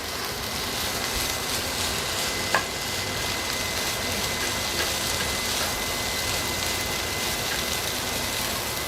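Egg fried rice with oyster sauce sizzles steadily in a pan, a dense close crackle that holds even throughout with one faint tap partway and no voices.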